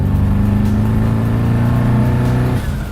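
A BMW E30 fitted with a twin-turbo V8 drives past loud and close, a sustained deep engine drone holding steady before dropping off abruptly near the end.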